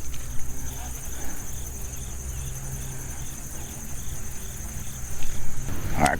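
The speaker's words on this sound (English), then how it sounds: "all you hear is nothing but the crickets" Crickets chirping in a regular pulsing rhythm beside a quiet lake during fall bass fishing, faint and steady over low background rumble, with a brief sharp noise near the end.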